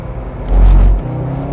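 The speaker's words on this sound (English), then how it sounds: "Something is struggling on the front. The engine is not really liking it." A stock Corvette Z06 engine strains on the Nürburgring, a loud, close, low rumble that swells briefly and then settles back to a steady drone.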